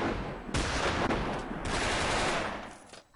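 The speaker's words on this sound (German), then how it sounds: "Wenn er nicht geschossen hätte. Ich hätte nicht gewusst, dass er da ist." Gunfire in the Brick-Force block shooter game, rapid loud shots clustered over about three seconds, with a sharp onset and bursts fading toward the end, no talk over them.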